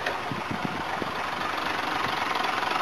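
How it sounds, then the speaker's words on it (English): An old petrol car engine idles after sitting unused for about a month, a steady close rumble with a slightly uneven, knocking pulse and no voices. "Hasn't been running like a month and it starts and idles"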